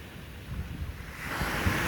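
Ocean waves at a sandy beach in Hilo, Hawaii, a soft rushing wash of surf mixed with wind buffeting the microphone, swelling louder toward the end.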